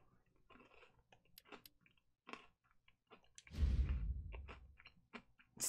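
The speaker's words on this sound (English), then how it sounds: "Sorry for the crunching ASMR too" Townhouse sea salt and olive oil flatbread crisps are chewed close to a microphone, giving scattered sharp crunches and clicks with a louder, denser burst of crunching midway, heard alone without talk.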